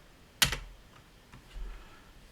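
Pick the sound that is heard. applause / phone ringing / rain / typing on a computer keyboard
typing on a computer keyboard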